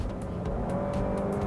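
A 2020 Cadillac XT6 crossover accelerating as its transmission kicks down, giving a steady, fairly loud engine drone with a faint whine running through it. No one talks.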